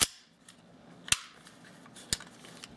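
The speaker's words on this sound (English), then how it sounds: "go ahead and put your slide and frame back together" A gas blowback airsoft pistol's slide goes back onto its frame with three sharp metallic clicks spaced about a second apart, close and crisp against near silence.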